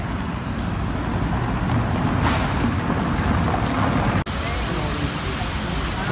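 Water from the Saint-Michel fountain in Paris rushes and splashes in a continuous outdoor wash of noise, with a brief dropout near the end.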